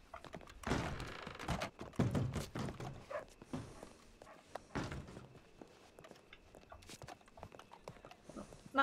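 Horse hooves clip-clop at a steady walking pace in the western game RedM, set around Blackwater, with scattered thunks and knocks mixed in and no talking.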